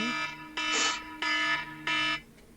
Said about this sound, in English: There's the alarm. That's a loud alarm there, Dan.